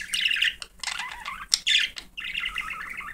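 A pet bird bathing in wet lettuce gives a string of sharp, close squawks and chirps in irregular bursts, with short quiet gaps between calls.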